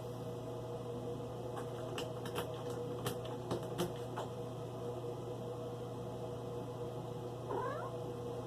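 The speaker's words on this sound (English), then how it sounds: "Cat's in here trying to figure out how to open the bathroom door." A cat scratches and paws at a bathroom door with a series of soft, irregular knocks over a low electrical hum, then gives one short meow near the end, quiet and close.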